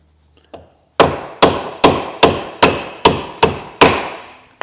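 A hammer strikes the ABS ring on a Vauxhall Meriva A repeatedly, eight loud, close metallic taps at an even steady rhythm, each ringing briefly before the next, after a faint preliminary knock.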